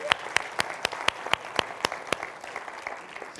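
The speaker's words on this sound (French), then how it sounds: "Ouais, on peut les applaudir." A church congregation claps in a steady, even rhythm, each clap crisp and distinct, at a moderate distance, fading slightly toward the end.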